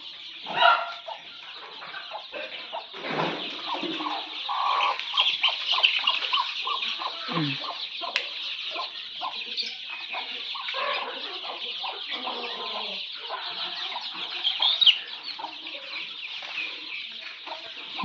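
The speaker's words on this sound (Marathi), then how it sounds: "एकच कोंबडी सांभाळते एवढे पिल्लं" A free-range country hen clucks among a large brood of chicks, with busy overlapping peeps and clucks running steadily throughout at close range, punctuated by a few louder calls.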